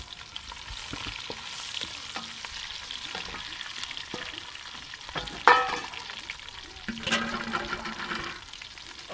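Browned onions and freshly added green chillies fry in a pot over an outdoor village cooking fire, a soft continuous sizzle with occasional stirring scrapes and one sharp clatter midway.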